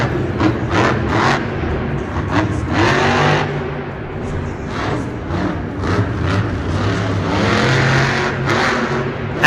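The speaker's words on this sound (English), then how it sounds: "Adam Anderson in Gravedigger, rocking this legendary monster truck" The Grave Digger monster truck engine roars and revs repeatedly at a Monster Jam arena show in Indianapolis, loud rising and falling bursts over constant crowd and arena noise.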